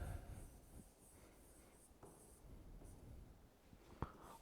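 Chalk or marker writing on a classroom board during an electrostatics lesson, soft intermittent scratchy strokes and a sharp tap near the end, faint and close, with no talking.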